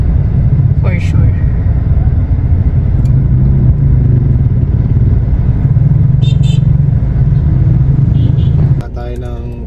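Road traffic heard from inside or beside a vehicle, with a loud, continuous low engine and road rumble throughout that drops away near the end, while people talk over it.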